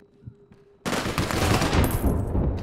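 Video game gunfire from APB Reloaded: after a quiet start, dense rapid shooting bursts in at about 0.8 seconds and continues loud and sustained, like machine-gun fire, to the end.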